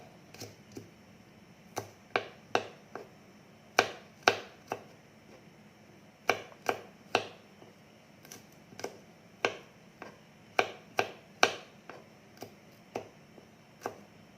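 A knife chops shallots and garlic on a cutting board in quick irregular bursts of sharp taps, close and clear with short pauses between runs.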